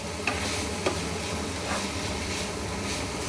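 Radish leaf sabzi is stirred and fried in a pan, a continuous close sizzle broken by a few soft scraping strokes of the spatula, with no talk.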